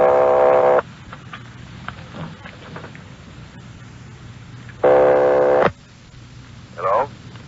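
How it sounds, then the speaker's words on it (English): Two long buzzing telephone ring tones from a ringing number in a vintage police radio drama, each lasting about a second, separated by a pause with faint crackly background and a brief softer tone at the end. "They're ringing the number, Sergeant."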